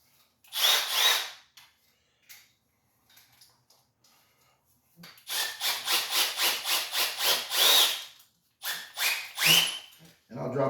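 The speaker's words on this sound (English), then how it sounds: "Put this bad boy in this drill." A power drill spins a hone with oil inside the cylinder walls of a 289 engine block during a home rebuild, giving a harsh rasping whir in short bursts, then a longer pulsing run with rhythmic strokes.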